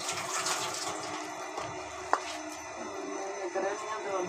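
Water poured bit by bit into a bowl of besan and maida batter for pakoras while it is kneaded by hand, a steady wet hiss with one sharp click midway and no talk.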